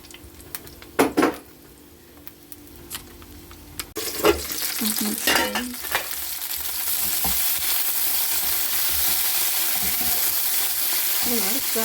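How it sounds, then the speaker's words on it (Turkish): Utensils clatter against a pan, then a steady loud sizzle builds as peppers start frying and keep hissing. "Hemen şimdi biberlerimi koyuyorum kızarmak için."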